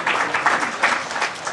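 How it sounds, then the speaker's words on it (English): Audience applause at a business conference session, a dense patter of many hands clapping at once, fairly close and steady for a couple of seconds. "A round of applause, ladies and gentlemen"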